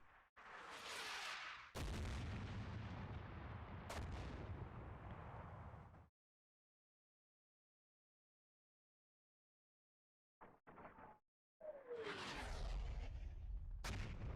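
Small arms fire in the video game Combat Mission: Cold War crackles in loud, dense bursts, breaking off into silence midway before a few short pops and another heavy stretch of gunfire and booms.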